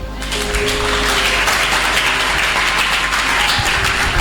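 A church congregation applauding the Lord, loud sustained clapping from many hands filling the room, with a low hum of music beneath.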